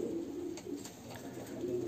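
Breeding pigeons packed in a coop coo in overlapping low, throaty phrases that swell and ease, nearby, with soft scuffs and wing sounds in the background.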